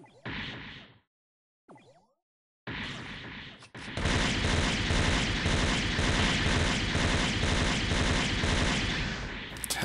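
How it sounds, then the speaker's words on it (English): Gundam Double X firing in the online game SD Gundam Online, a sparse few shots first, then a dense rapid burst of repeated gunfire and blasts that runs loud and continuous for the rest of the clip. "Ten shots."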